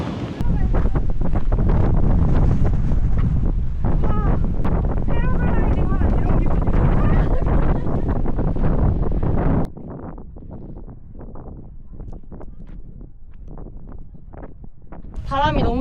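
Strong wind buffeting the microphone on a mountain at Hwangmaesan in Hapcheon, loud and roaring for about ten seconds before easing to a gustier, quieter rush, with people talking in the background.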